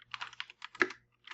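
Computer keyboard typed on in quick bursts of close, crisp key clicks with short pauses between, ending in a final flurry.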